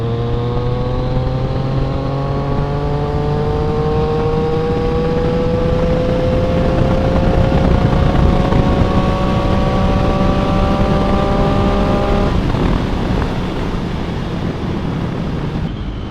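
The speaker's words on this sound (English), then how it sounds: "And then I whack open the throttle. It's right there. It just picks up and goes" A Triumph Street Triple 675R revs up under full throttle, its engine note climbing loud and close while riding, then easing off as the pitch drops near the end over steady wind rush.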